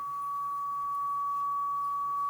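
A constant pure sine tone, run through a Roland RE-501 Space Echo's reverb, sustains evenly for a couple of seconds, smooth and unbroken, with a faint low hum beneath it.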